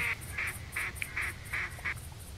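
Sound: duck call in a video game

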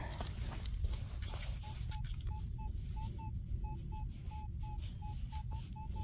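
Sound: metal detector tone ringing up over a target in mud

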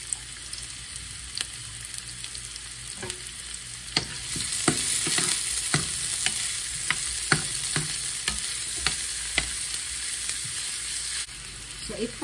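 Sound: onion sautéing in a pan

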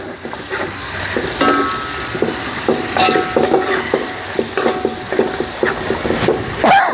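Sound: chicken added to fried garam masala and stirred

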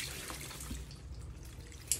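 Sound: watering a potted plant

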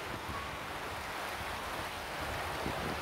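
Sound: moderate wind in an old growth forest

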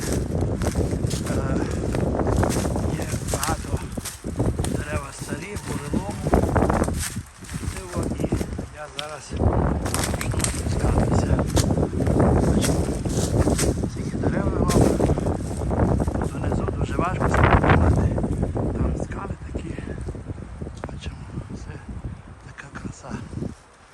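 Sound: strong wind

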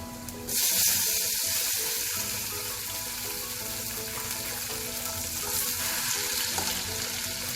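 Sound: chopped tomatoes frying with sautéed onions in a pan

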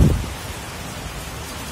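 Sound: heavy rain

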